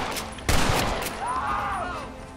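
Gatling gun fire in the video game Red Dead Redemption: a short burst of rapid shots with a sharp crack at the start, close and loud, followed by fading ringing tones and game ambience, no talk.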